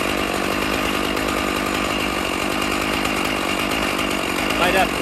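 An Alaskan chainsaw mill rips through cedar, the saw engine droning loud and steady throughout with a brief surge near the end.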